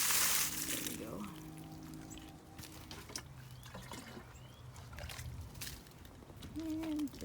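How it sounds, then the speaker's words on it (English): Water poured from a can or hose onto a small garden plant, a soft, faint trickle and splash that comes and goes while a person talks nearby. "let's water this little guy"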